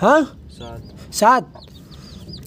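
A broody hen sitting on eggs gives a couple of short clucks near the start and again around midway, close and fairly loud, with softer bird chirps in between and a person speaking briefly.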